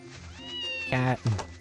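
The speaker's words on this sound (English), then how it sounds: "Cat creature." A cat creature in the video game Ys 1 Chronicles gives a short pair of harmonic meows, the second brief and clipped, heard clearly over quiet game background music.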